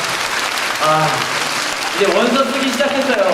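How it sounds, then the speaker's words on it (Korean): Clapping from a congregation for senior high school students at a semester opening worship service, a moderate patter of applause running under a speaking voice throughout. "우리 고3들을 위해서 박수 한번 쳐주세요."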